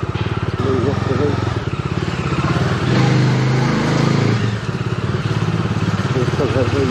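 A Bajaj 220 motorcycle engine thrums steadily while being ridden, a close, loud pulsing exhaust note with slight rises in revs, and someone talks over it throughout.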